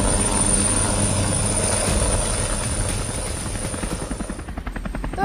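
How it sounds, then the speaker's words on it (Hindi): Helicopter sound effect on a TV news broadcast, a loud steady rotor and engine drone with rhythmic blade chop becoming more distinct toward the end, heard on its own without talk. "फिर से हम हेलीकॉप्टर में सवार हैं"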